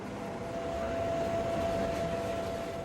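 A Tokyo subway train rolls steadily along its line, a continuous low rumble with a faint sustained whine, moderately distant and unbroken, with no voices.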